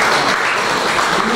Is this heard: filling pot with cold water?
no